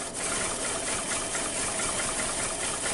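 A 2006 Hyundai Tucson engine idles roughly, stumbling under a hard-start fault, as a steady dense rumble heard close with no talk.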